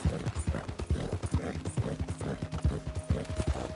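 Hooves of a horse clop repeatedly at an even walking pace, each strike crisp and near, continuing throughout with faint background noise.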